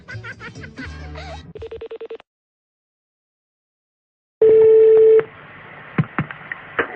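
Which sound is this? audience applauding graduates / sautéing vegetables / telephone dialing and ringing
telephone dialing and ringing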